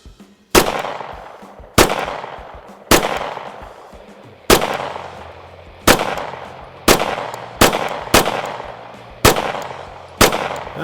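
Ten sharp, loud gunshots fired at contact distance into Safe Life Defense body armour, each a hard crack with a short decaying tail, spaced about a second apart with an irregular rhythm outdoors.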